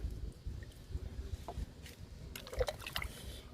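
Liquid being diluted in a 20-litre bucket holding 18 litres of water: quiet sloshing, trickling and dripping with a few small splashes, faint and close, with no talk.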